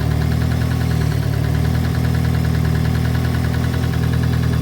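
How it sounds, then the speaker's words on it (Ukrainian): A Daewoo Lanos 1.5 engine, after injector replacement, idles steadily with a low rumble and a faint rhythmic knocking clatter, close and continuous with no talking. "Хоч двигун шумно трішки працює"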